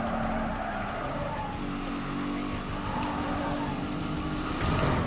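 Car tires skid under hard braking in the 2005 racing game Need for Speed: Most Wanted, a loud squeal over a roaring engine that persists for several seconds, with a voice speaking over it.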